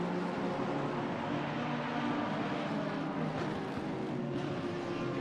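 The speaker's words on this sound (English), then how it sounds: "It's just an aggressive exhaust note coming from the Fazekas." Aggressive race car exhaust from Assetto Corsa Competizione at the Hungaroring circuit, a loud, continuous engine drone held steady for several seconds with no voices over it.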